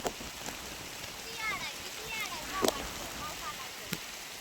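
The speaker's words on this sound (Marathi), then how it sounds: "हे बघा मित्रांनो, फायनली पाऊस चालू झालेला आहे" Rain falls steadily over a rural village field, a dense continuous hiss with a few louder drops, fairly faint, while a voice talks over it.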